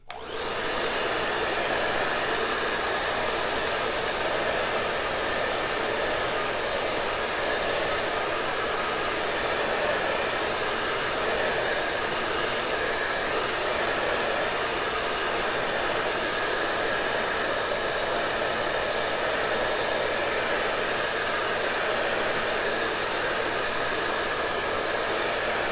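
A hair dryer blows steadily at close range for the whole stretch, drying a baking decoration with an even, unbroken whoosh and no talking.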